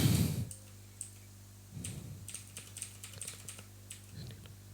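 Bank account details being typed on a computer keyboard, with a few short bursts of soft key clicks separated by pauses over a steady low hum, and no voices.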